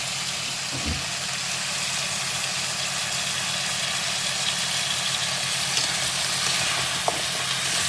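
Vegetables sautéing in oil for a Tamil-style prawn curry give a steady, even sizzle and hiss throughout, with a faint low hum underneath and a couple of small clinks.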